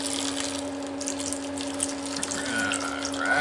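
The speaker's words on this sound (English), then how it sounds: "take the peroxide, put it in the bowl, in the cup. Put about a fourth cup in there" Hydrogen peroxide pours steadily into a cup, a continuous close liquid splash and trickle lasting the whole moment, with a faint hum underneath.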